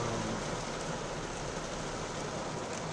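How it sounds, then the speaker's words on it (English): Heavy pouring rain outside a building, a steady dense broadband wash that holds at an even loudness the whole time, with no talk and no separate drops standing out. "but it's pouring rain"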